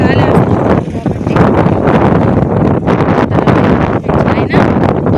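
Hot wind blows steadily over open farm fields in summer heat, a loud, continuous rushing roar buffeting the microphone with only brief dips in strength.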